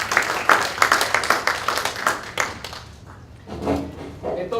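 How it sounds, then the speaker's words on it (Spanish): Audience clapping at a literary conference, a dense burst of hand claps that thins and fades after a couple of seconds before a few scattered claps return. "aplausos para ustedes"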